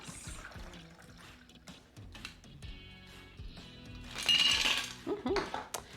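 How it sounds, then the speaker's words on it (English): A cocktail is strained over ice into a cocktail glass, with light clinks and a short liquid trickle, then a louder splash and clatter of ice near the end, close and with no voices. "Strain this into our cocktail glass."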